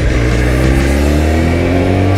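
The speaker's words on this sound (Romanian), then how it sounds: "Ce bine e să te dai singur cu motor." A motorcycle engine while riding, a steady droning hum with sustained tones held at a constant pace, loud and close throughout with no voices.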